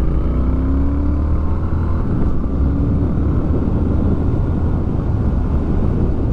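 A Triumph Speed Twin motorcycle riding on Michelin Road 5 tires gives a loud, steady engine drone mixed with heavy wind rush, recorded on board and continuous throughout.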